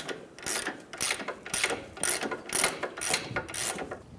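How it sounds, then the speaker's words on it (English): A ratcheting wrench with an Allen head in the center loosens the CV axle nut on a 2003-2011 Honda Element, rattling through about eight quick, evenly paced click bursts up close. "we're going to need to modify our approach and use a wrench here with an Allen head in the center"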